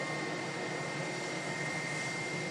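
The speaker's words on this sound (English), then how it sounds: "Dreamliner's off to Larnaca, apparently." A Boeing Dreamliner jet airliner departs with a steady, broad roar of jet engines, constant and fairly loud with no break across the whole stretch.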